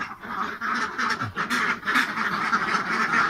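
Ducks quacking steadily in a pen where the birds have just begun laying eggs, several close, loud calls overlapping continuously throughout.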